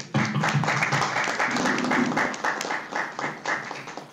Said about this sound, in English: let's applause together for the presenter today